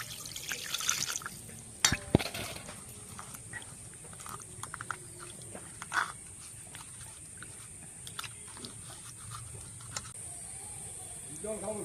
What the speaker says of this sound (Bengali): এবারে এই ছানাটাকে জল দিয়ে ভালো করে ধুয়ে আমি ঠান্ডা করে নেব।